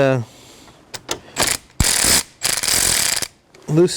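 A wrench fitted with an extender clicks in quick ratchet bursts while loosening the battery terminal on a 2019 Subaru Forester, the mechanism close and fairly loud, with brief pauses between strokes and a voice at each end.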